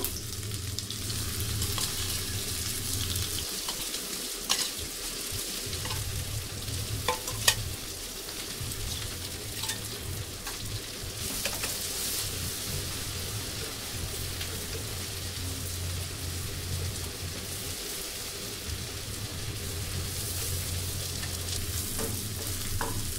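Shrimp frying in foaming mustard oil, a loud continuous sizzle and crackle close by, with occasional scraping and clicks as the pieces are stirred and turned.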